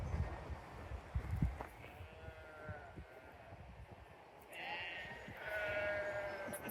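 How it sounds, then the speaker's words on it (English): Sheep bleat a few times at a distance, wavering calls rising over a quiet outdoor background with faint rustling. "So I found the sheep."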